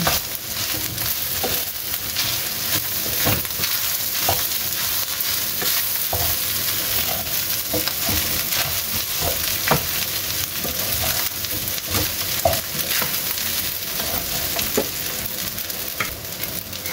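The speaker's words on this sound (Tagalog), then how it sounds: "Di mo nang i-mix diri sa imuhang deep fried rice." Deep fried rice sizzles in a pan while being stirred, a steady crackling fry broken by repeated scraping and tossing strokes, close and continuous with no talking.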